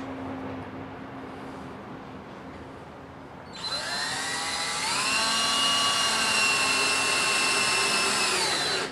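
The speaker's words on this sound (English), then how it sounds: "Then you run the other one in." After a few quiet seconds a power drill kicks in, driving screws into a wooden toy box with a loud, sustained whirring whine that rises in pitch and holds steady to the end.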